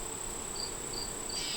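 Honeybee stuck in propolis during a hive inspection, a steady, high, continuous buzzing drone with a few brief rising whines, close and moderately quiet.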